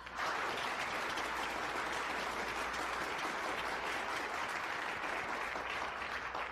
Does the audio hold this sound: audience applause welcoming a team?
yes